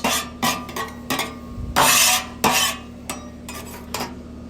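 Metal spatula scraping residue off a hot pan after toasting a Cuban sandwich, a series of harsh rasping strokes in an uneven rhythm, close and loud, with no talking.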